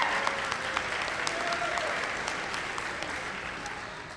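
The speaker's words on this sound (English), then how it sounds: "How about a round of applause for this family?" Audience at a school ceremony gives a family a round of applause, dense sustained clapping from a crowd that slowly tapers off, with a voice briefly heard among it.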